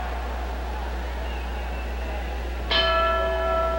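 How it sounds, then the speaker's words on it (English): A single clear ring of a boxing bell starting round five of a heavyweight bout strikes late and rings on, bright and sustained over quiet background hum, with no talk. "There's the bell."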